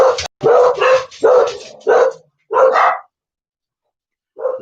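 A puppy barks in a quick run of five or six sharp, close yips, then falls silent before one last short bark.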